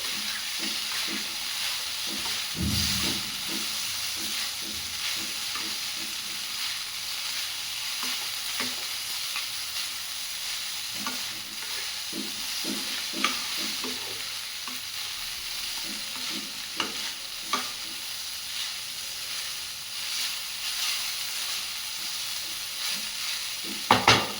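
Chow mein tossed and stirred in a hot frying pan, with steady sizzling and hiss throughout and repeated scraping, clattering strokes of a utensil against the pan, close and continuous with no talking.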